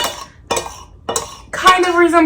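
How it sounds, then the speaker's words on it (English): Butter being cut into flour in a bowl for Fruity Pebbles biscuits, metal utensils clinking and scraping against the bowl in a few distinct strikes, with a voice chiming in near the end. "now we're just going to cut in our butter until we get something that kind of resembles"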